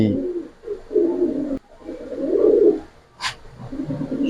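Close racer pigeons give low throaty coos in several swelling phrases, pausing between them, with a short sharp higher sound near the end.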